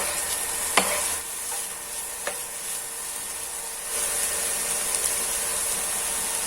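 Pork stir-fries in a pan for a Thai om moo with mixed vegetables, hissing with a steady sizzle. Occasional scraping knocks of the utensil sound as it is stirred.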